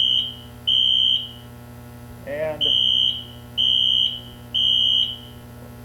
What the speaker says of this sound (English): somebody set off a fire alarm somewhere in the press box here